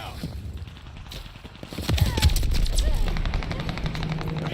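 Rapid machine-gun bursts and heavier booms ring out in a war video game firefight, intensifying midway into a loud, dense barrage with faint voices in the background.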